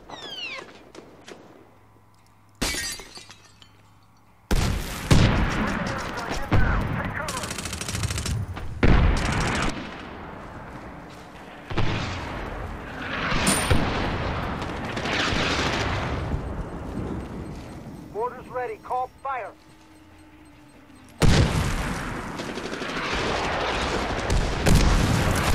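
Gunfire and explosions in a Medal of Honor Warfighter beta match, loud bursts of automatic fire and heavy booms coming in dense clusters with brief quieter gaps, close and chaotic.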